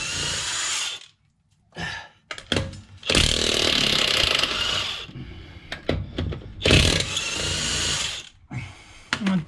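A DeWalt power tool removes front suspension bolts on a 2013 BMW 318d in loud close bursts, each whirring run followed by short gaps and clanks, with no talking.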